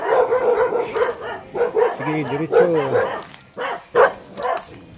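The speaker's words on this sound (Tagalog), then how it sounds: "Sumasalubong lang itong mga kaibigan nating aso." Several dogs bark in quick clustered bursts close by, with yips mixed in, while someone talks over them.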